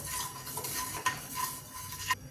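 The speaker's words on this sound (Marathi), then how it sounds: "थोडंसं भाजून घेऊया, परतवून घेऊया थोडंसं." Coriander and cumin seeds dry-roasting in a pan for homemade sambar masala, stirred with a spoon: steady close scraping and rustling with faint crackle and a few sharper clinks, no voices.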